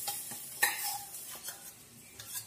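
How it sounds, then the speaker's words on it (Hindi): Turmeric and black pepper powder lightly roasting in a pan, heard as quiet spatula scrapes and a few sharp clicks against the metal over a faint, soft sizzle. "काली मिर्च पाउडर और हल्दी, और इसको मैं हल्के से भून ले रही हूँ"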